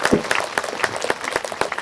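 Audience clapping at a spiritual gathering, a lively, uneven patter of many hands with several distinct close claps punctuating the crowd applause.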